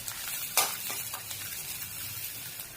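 Cabbage stir-fried in a pan for cabbage manchurian gives a soft continuous sizzle with a few scraping stirs and one sharper clink, fairly quiet and without talk.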